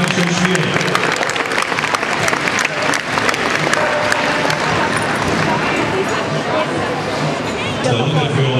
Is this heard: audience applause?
yes